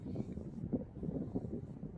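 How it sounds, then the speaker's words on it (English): Strong wind buffeting the microphone in an open field near Stocksbridge, a continuous low rumbling roar with gusty surges throughout and nothing else audible. "Wow, so windy."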